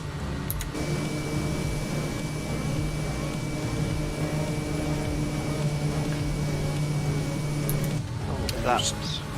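A propeller airplane engine in Microsoft Flight Simulator, flying over County Kerry in Ireland, drones as a steady, even hum with a faint tonal whine and holds constant throughout.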